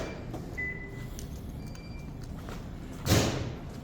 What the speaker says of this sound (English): and then you'll notice it locks the door.